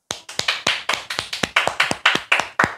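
A classroom of students claps together in a steady series of about fourteen sharp, loud hand claps, evenly spaced and close, with no talking.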